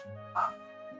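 A dog in the Mabinogi video game gives a single short bark over a steady hum of game music.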